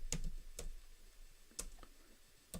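Code is typed on a computer keyboard as a handful of sharp, sparse keystroke clicks at irregular intervals, fairly close and quiet, with no talking.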